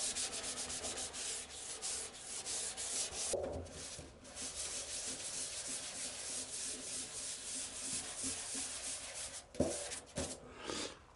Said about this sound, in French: Donc ponçage au 400.